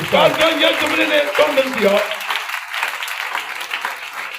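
A church congregation at a Friday prayer service bursts into applause and cheering over a voice at first, then the clapping carries on alone as a dense, steady wash.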